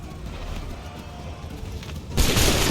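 A volley of musket fire crashes out in Assassin's Creed 3, a murky rumbling bed of shots building into a sudden loud blast near the end, close and dense.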